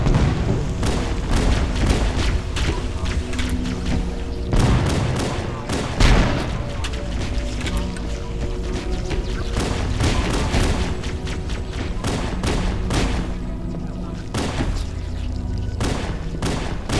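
Grenade blasts and gunfire in Halo 1 combat on the Library level at Legendary difficulty: a dense, loud, continuous barrage of booms and rapid shots with heavier thuds around the six-second mark, with people talking over it at times.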